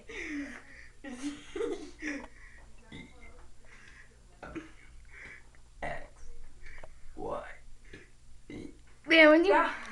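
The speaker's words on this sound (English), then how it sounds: "when he burps, he forgets a lot of letters" A man burps out letters of the alphabet, a run of short, deep burps mixed with speech and chuckles, ending in a loud, drawn-out burp.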